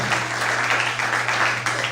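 A church congregation applauds during a couples' talk: a dense, steady patter of many hands clapping together, moderately loud and even throughout, with a low electrical hum beneath and no speech over it.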